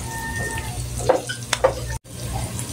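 Chicken frying in a pan for a creamy mushroom chicken dish, a steady sizzle with a few clattering stirs of the spatula, close and moderately loud, with a brief cut near the end.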